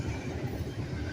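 A freight train on a busy Norfolk Southern and CSX line rumbles past at steady distance, a brief continuous low roar of wheels and cars with no voices.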